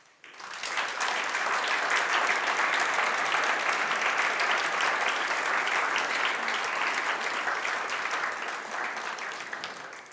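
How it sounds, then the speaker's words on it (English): A conference audience applauds steadily for about ten seconds, a dense, even wash of clapping that starts quickly and tapers slightly at the end, with no talk over it. "let's thank to these main partners and other partners for their help, for their support, with an applause."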